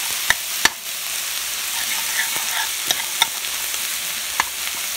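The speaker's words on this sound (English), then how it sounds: "Just give this a nice stir." Onion, pumpkin and okra sizzle steadily in a pot for pigtail okra rice, with a few sharp spoon clacks against the pot rim as everything is stirred, close and fairly loud.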